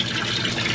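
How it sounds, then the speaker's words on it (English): A small aquarium pump circulates the water with a close, steady bubbling and gurgling, running continuously for this brief moment. "Small little pump just to circulate the water a little better."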